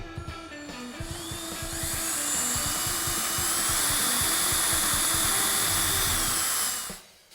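Power tool cutting a small notch into the front of a motorcycle fender mount hole during a chopper backrest install, a steady whirring grind with rapid low chatter that swells, holds, then stops abruptly.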